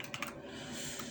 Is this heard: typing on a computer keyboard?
yes